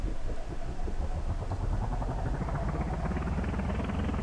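Rotary radial engine in Garry's Mod, driving a propeller, revs up from a low throbbing drone to a higher, rising buzzing whine, steady and close with a slightly shaky pulsing texture.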